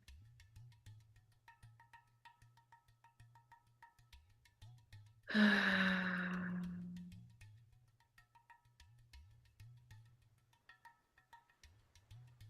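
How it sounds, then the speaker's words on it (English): A single slow, deep breath sounds close and soft, a long airy exhale that fades over about two seconds, set against faint rhythmic background ticking. "Taking a deep breath."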